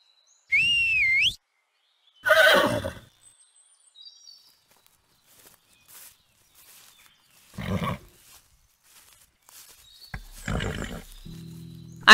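Horses in the video game Star Stable Online neigh and whinny in short, loud, separate bursts with near silence between them.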